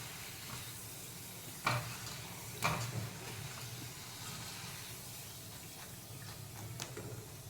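Quiet, steady sizzling of French fries frying in hot oil, with a few sharp clicks and pops breaking through the hiss.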